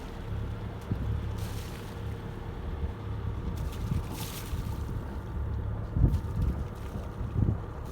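A boat leaves the harbor at Salinas, Puerto Rico, with steady engine and water rumble under gusting wind buffeting the microphone, and a few faint knocks near the end, with no talking.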